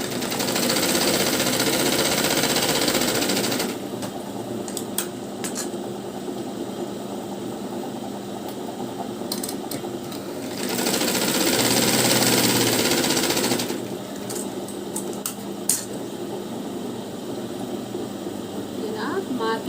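A sewing machine double-stitches a blouse lining in steady mechanical bursts, running for a few seconds, pausing, then running again, close and moderately loud with no talking.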